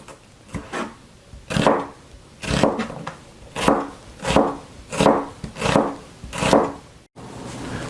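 A sharp knife slices food into one-inch shreds on a cutting board, about eight steady, evenly spaced cuts, close and alone, each a short scraping chop.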